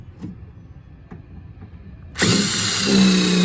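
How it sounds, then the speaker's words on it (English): A power drill bores out rivets on the door of a 2000 Ford Ranger during window regulator work. Quiet handling noises come first, then a close, loud, continuous drill whine that rises slightly in pitch. "I'm gonna drill these 4 rivets out"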